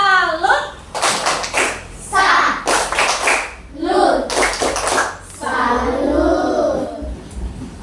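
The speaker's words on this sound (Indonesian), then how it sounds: "tepuk tangan, tepuk salut untuk siapa namanya?" A class of fourth-grade children clap a rhythmic salute in short, loud bursts of hand claps, alternating with their own chanting voices in a classroom.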